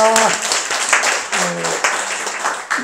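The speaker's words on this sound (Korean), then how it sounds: "神様に感謝の栄光の拍手を捧げます。" Congregation clapping in a church service, steady dense applause from many people running under a voice speaking over it, with a few louder bursts.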